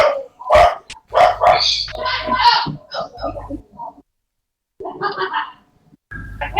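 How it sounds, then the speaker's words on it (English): Several dogs bark in bursts at a moderate distance, with quick repeated woofs and yips separated by short pauses and a brief silence partway through. "Aaron, why are your dogs barking?"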